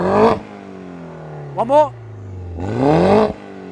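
A Mini GP2 race car engine revs in three short, sharp bursts with rising pitch, separated by a low idle. A voice speaks briefly between the revs.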